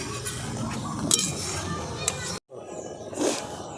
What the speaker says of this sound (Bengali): এবার এই জলটা শুকনো হওয়া পর্যন্ত একটু নেড়ে যেতে হবে আমাদের।